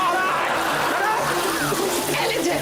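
Water gushing and splashing steadily from a running tap indoors, a continuous noisy spray under people talking.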